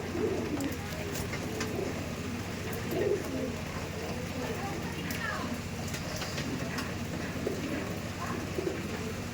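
Madrasi pigeons coo in a low, continuous murmur nearby, mixed with a hissing, rain-like background wash, without any voices.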